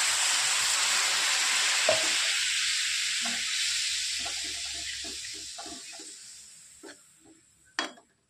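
Water poured into a hot pan of moth bean dal with hing, a loud burst of hissing sizzle that slowly fades, followed by a few soft clinks and stirring knocks close by.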